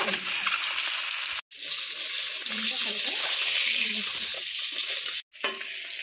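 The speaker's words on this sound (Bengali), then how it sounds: "ডিমগুলো ভালো করে ভেজে নিয়েছি" Spice-coated eggs fry in mustard oil in a pan, a loud continuous sizzle broken by two brief cuts, with stirring sounds mixed in.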